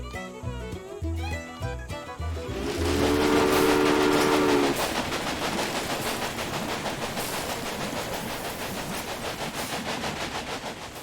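Train in the railway management game Railway Empire: a loud horn blast over rumbling cars, then a steady rhythmic clickety-clack of the wheels that carries on to the end, with no talking.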